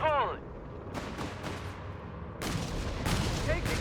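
Panzer tank gunfire in Company of Heroes 3, several sharp cannon and gun bursts in quick succession against a quiet battlefield backdrop, a strong blast near the end.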